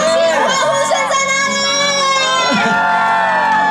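An outdoor concert crowd at a Hakka music event in Xinwu, Taoyuan, cheers and whoops loudly, with many shrill voices shouting together in a sustained roar that rises in bursts.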